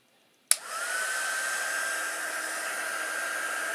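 After a click, a steady loud blowing whir starts abruptly and keeps running evenly, like a heat gun's fan and air rush.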